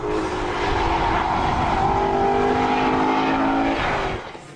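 An Aston Martin convertible sports car engine roars steadily and loudly nearby with a sustained throaty tone, easing off at the end; no voices.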